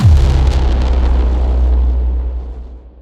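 A cinematic braam hit with extra low-end punch from FabFilter Pro MB multiband processing: one loud, deep booming impact that swells at once and rumbles on steadily before fading toward the end, heard alone.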